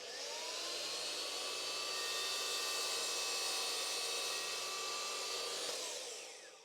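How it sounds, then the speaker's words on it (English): A miter saw runs through a piece of wood in one sustained, loud whining cut of about six seconds that rises, holds steady and then winds down, close up with no talking. "I'll do that on the miter saw super quickly."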